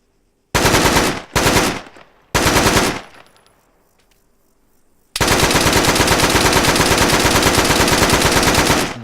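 An RPK machine gun from the NiArms video game mod fires three short, loud bursts, then a reload clatters during a pause, and then comes one long sustained automatic burst.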